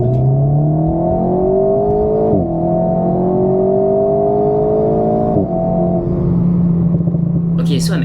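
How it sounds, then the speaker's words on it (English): A 2023 Alpine A110+ sports car with its engine mounted behind the cabin roars while accelerating, the engine note climbing steadily through several gear changes, loud and close inside the car. "when you step on the pedal, you can hear the roar of the engine right behind you."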